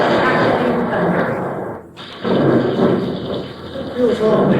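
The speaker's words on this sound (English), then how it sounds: "Suddenly, bursts of bright light and roars of crackling thunder." Loud crackling thunder used as a sound effect in an amateur radio play, with close, rolling roars that break off for an instant and then return with rain-like hiss.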